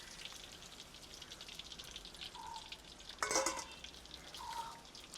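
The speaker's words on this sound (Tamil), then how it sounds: "இதே மாதிரி மிளகாயும் பொரிச்சு எடுக்கணும்." Green chillies frying in hot oil give a steady, quiet sizzle with light crackling, and a sharper burst of spattering pops comes about two thirds through.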